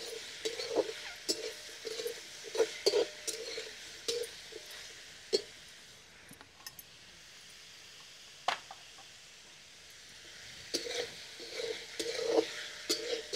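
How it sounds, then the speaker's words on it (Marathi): Mushrooms, onion, tomato and capsicum fry in a kadai over a village wood-fired stove, with a low sizzle and repeated spoon scrapes and knocks in bursts, quieter through the middle. "टोमॅटो, शिमला मिरची. आता हे 5-1 मिनटं चांगलं फ्राय करून घ्यायचं आहे."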